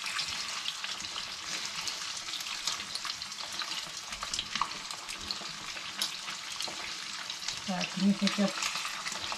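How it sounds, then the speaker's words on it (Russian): Chicken wings sizzle and crackle steadily in a hot frying pan for a beer-braised wing dish, with occasional scraping and stirring, and someone speaks briefly over the frying. "Все, сейчас обжарится с каждой стороны."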